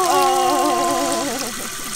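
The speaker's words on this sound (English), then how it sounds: "Dad's washing your hair." Water runs steadily from a tap while a newborn baby's hair is washed after a C-section birth, a soft continuous wash of noise with a wavering voice-like tone over it.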